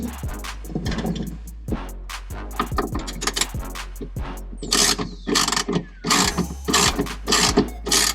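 A socket wrench cinches down car body molding nuts from the back side, giving bursts of quick ratcheting clicks with pauses between strokes, close and clear with no talking.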